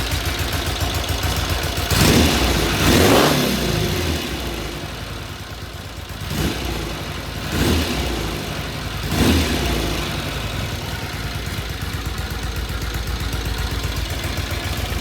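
A vintage British motorcycle engine runs at a steady idle around 1,000 RPM, with a few throttle blips swelling up and falling back before it settles into an even, close-up idle.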